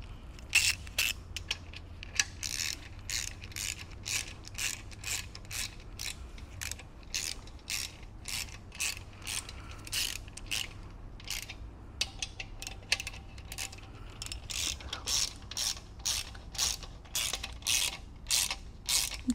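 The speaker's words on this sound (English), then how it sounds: "Again, you're just going to use your ratchet." A ratchet wrench works on a BMW E46 M3's S54 engine during a piston rebuild, its quick metallic clicking repeating in steady bursts for nearly twenty seconds, close and clear.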